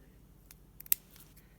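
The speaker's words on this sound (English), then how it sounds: "at that point I might want to just go in and snip a bit" Scissors make a few quick, quiet snips during craft work, with light clicks and one sharper cut close by and no talking.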